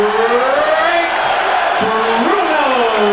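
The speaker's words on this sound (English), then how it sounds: "A rousing reception from the big Wembley crowd for Bruno" Huge Wembley boxing crowd roaring and cheering as heavyweight Frank Bruno enters for his WBC world title fight: a loud, sustained sustained wall of voices with rising whoops and shouts, an announcer's drawn-out call ringing over the top.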